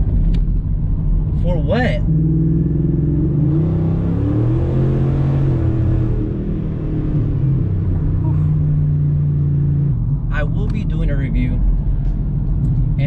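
Pickup truck engine cruising at about 80 mph, a loud continuous rumble and road roar inside the cab with a voice talking over it.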